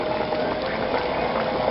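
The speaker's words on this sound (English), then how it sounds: "the coconut milk, which is already in the pot here. Right? This is just in the process of boiling." Coconut milk bubbling and boiling in a pot for a Grenadian cook-up, a steady close hiss of small bursting bubbles with no talk.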